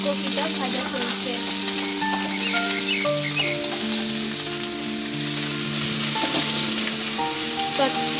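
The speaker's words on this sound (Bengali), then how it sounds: "আর এখানে ফুলকপিটা ভাজা চলছে" Cauliflower fries in a pan with a loud, steady sizzle that carries on without a break for about eight seconds, with a sustained musical tone playing alongside it.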